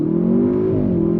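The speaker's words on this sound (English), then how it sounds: "we're gonna go on throttle again from a dead stop. Love the launch control." A 2023 Audi S8 accelerates hard from a dead stop using launch control, its engine giving a loud, steady, rising drone heard from inside the car.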